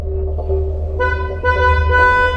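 A car horn blares in sustained blasts over a low engine rumble, growing louder partway through, with no voices.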